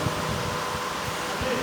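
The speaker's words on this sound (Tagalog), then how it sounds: "because humidity, we have electric fan here" An electric fan runs steadily in a hot, humid work area where large high-voltage cable is being prepared for termination, giving a constant airy whoosh with faint low thumps underneath.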